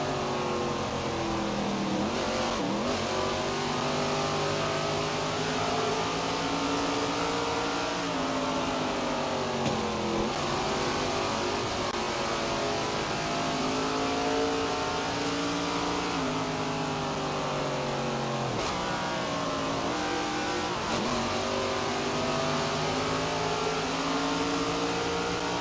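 Race car engine in the SRX racing game at Stafford Speedway, loud and continuous, with repeated rising revs broken by sudden pitch drops as gears shift down, a steady roar throughout with no talk.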